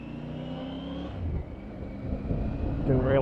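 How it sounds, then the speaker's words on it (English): A car pulls out into traffic ahead of a motorcycle on a road ride, its engine note rising in a short acceleration under a steady hum of engine and wind. "Didn't realise that car was going to pull out then, should have waited"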